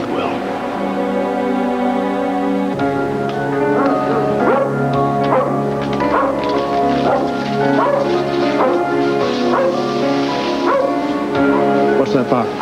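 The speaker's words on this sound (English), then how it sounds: "What's that bark?" A dog barks and yips in short bursts, some whimpering mixed in, loud and close, under ongoing background music.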